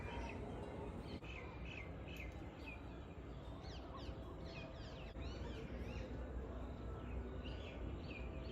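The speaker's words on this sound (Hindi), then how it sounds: "मुझे इस टाइम पे चिड़ियों की चहकने की आवाज़ बहुत ज़्यादा पसंद है।" Many birds chirp and call in the evening outdoors, with bright overlapping tweets and trills over a steady, dense background of ambient noise and distant activity.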